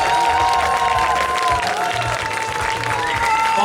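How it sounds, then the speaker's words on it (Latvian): A crowd at an outdoor brass band festival applauds, thick continuous clapping with some cheering mixed in and voices murmuring under it, steady and loud from start to finish. "Aplausi viņiem, maniem palīgiem."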